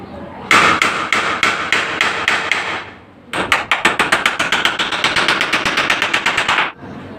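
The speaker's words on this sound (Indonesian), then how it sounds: "Jadi saat dia terganjal, kita bisa memaku ke atas ini sobat." Nails hammered into a wooden frame for a GRC shadow-line ceiling: a run of about eight loud, evenly spaced blows, a short pause, then a rapid, steady volley of twenty-odd sharp strikes close by.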